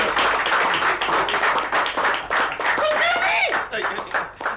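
A studio audience claps loudly to welcome a guest on a Hindi TV comedy set, steady dense applause throughout with voices and a cheer mixed in.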